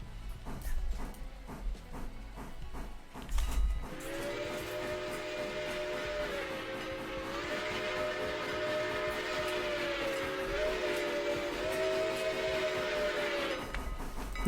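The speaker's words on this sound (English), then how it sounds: "My whistle quilling signals are still rookie at best" A steam locomotive whistle in the video game Railroader sounds one long, loud chord for roughly ten seconds, its pitch wavering as it is quilled, after several seconds of clanking and rumbling.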